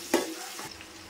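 Chopped onions frying for a gongura chicken pulao, a short stir and soft sizzle in the pan with a brief scraping burst near the start, then a quieter steady crackle.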